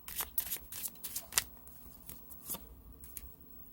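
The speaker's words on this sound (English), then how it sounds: "I'm going to pull a clarifier card on the Nine of Swords" Tarot cards shuffled by hand for a clarifier pull, a close, quiet series of crisp riffling flutters and soft slaps in quick bursts, with brief pauses between them.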